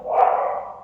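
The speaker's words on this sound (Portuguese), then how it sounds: "acho que até a chuva está deixando os cachorros agitados aqui" A dog gives a single short bark while rain begins outside, close and fairly loud, with no voices.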